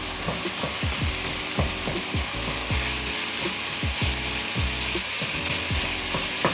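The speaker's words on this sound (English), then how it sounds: "Then we're just going to brown off the mince." Minced beef, 10% fat, browning in a pan for a traditional lasagne, giving a loud continuous sizzle with scraping, stirring knocks as the meat is broken up, no voices.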